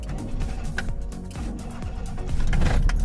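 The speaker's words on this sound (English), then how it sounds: "you get a lot of vibration because this is the 3-cylinder engine" A 2000 Perodua Kancil's 3-cylinder engine running with noticeable vibration, a continuous close low rumble with faint clicks and a slight rise in level toward the end.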